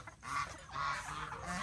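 Several ducks on a small farm, about two weeks old, honk and quack in repeated calls that overlap at close range, with short breaks between bursts and no talking.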